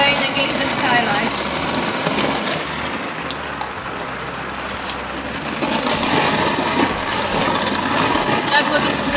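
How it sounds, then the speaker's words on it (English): Heavy rain drums steadily on a caravan skylight in a UK winter, a dense continuous patter close overhead with a low rumbling undertone throughout. "The rain is coming down very heavily."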